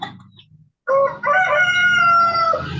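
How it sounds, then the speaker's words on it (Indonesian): A rooster crows once, loud and close, a long rising and falling call that follows a brief stretch of quiet low murmuring. "wah itu ada ayamnya siapa?"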